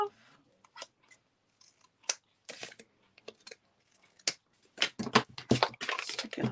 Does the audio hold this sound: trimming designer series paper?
yes